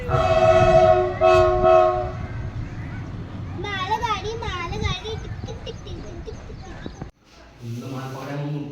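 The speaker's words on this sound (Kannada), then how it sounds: "ಈಗ ಬರೋಕತ್ತಿದ್ದು ಮಾಲ್ ಗಾಡಿ ಆಯಿತು" A train horn blares loudly at the start, then a passing Indian Railways goods train rumbles along with voices talking over it before it cuts off.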